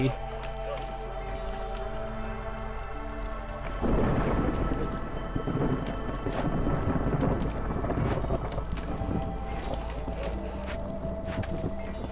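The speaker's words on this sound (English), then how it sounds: "Okay, storm is coming." Thunder rumbles and rain pours in as a storm rolls in during the video game Against the Storm, the roar swelling suddenly partway through over steady game music and ambience.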